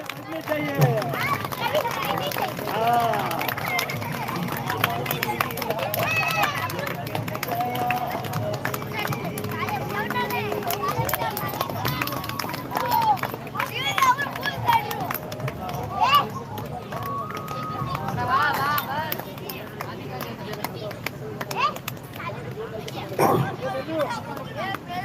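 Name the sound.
audience clapping at a religious gathering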